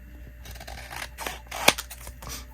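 Scissors snip through paper for a journal, a few quiet rustling cuts building to one sharp, close snip in a quiet room.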